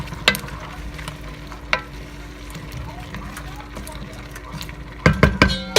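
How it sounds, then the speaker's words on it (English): Irish stew ingredients with bay leaves and celery seed are stirred in a sizzling pot, with a spoon scraping and knocking against the pot in scattered strokes and a burst of heavier clatter at the end. "I'm going to give that a good stir."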